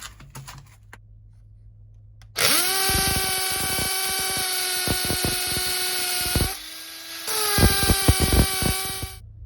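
A power drill drives screws into the flange of a corner shower pan with a PVC liner on a concrete slab: a loud, close whine runs for about four seconds, cuts out briefly, then revs again.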